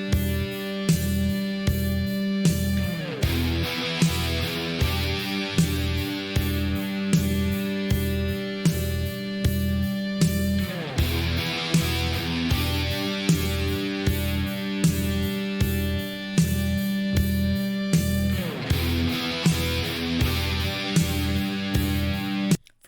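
A heavy, distorted bass-driven rock intro from a 1982 track, with a slow repeating pounding riff and cymbal swells building in cycles, loud and full.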